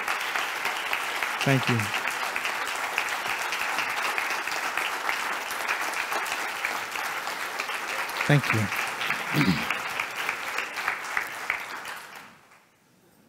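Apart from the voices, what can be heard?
audience clapping at a keynote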